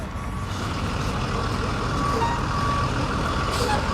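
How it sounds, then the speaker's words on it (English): Backup alarms on construction vehicles and trucks at an asphalt industry show, steady beeping over a loud continuous engine and crowd rumble, with more than one alarm tone overlapping. "You always want to be careful when you hear 3 different backup alarms"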